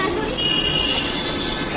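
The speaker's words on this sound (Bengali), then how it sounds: "দেখো আমরা এখন উঠছি মেট্রোতে।" Steady rumbling hum of a metro train at a station platform as people board, with a faint high tone running through the broadband noise and voices in the background.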